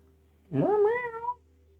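A cat meows once, a single clear rising-then-falling call lasting under a second, close and alone against a quiet background.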